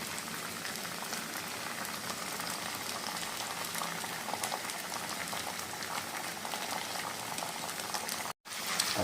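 Fried onions and ginger-garlic paste hiss steadily in a hot pan, a dense, even sizzle that holds close and constant with a brief dropout near the end.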